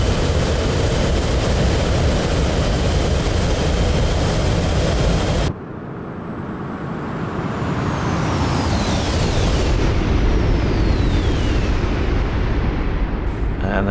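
Supersonic heavy jets, a Tu-160 Blackjack, MiG-31 and Tu-22M, racing in the DCS World flight sim: a loud, steady broadband jet roar that cuts abruptly to a softer rumble with descending whistling tones sweeping past, then builds again.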